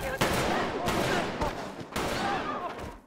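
Gunfire from a film scene in Squid Game, heavy bursts of shots coming in several loud volleys across a few seconds, echoing and dense, without talk.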